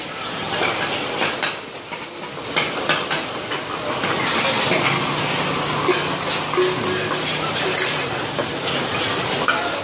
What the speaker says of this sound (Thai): เขาผัดนะครับ